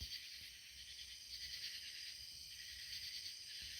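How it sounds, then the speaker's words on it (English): Crickets and other night insects in rural Georgia, a steady dense high-pitched trilling chorus that fills the whole stretch evenly, moderately faint and continuous with no voices. "Maybe a few crickets."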